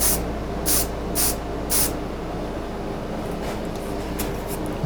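Four short hissing bursts of spray in an even rhythm, close by, applied to a carved spalted walnut sign, followed by softer fainter sprays over a steady background hum.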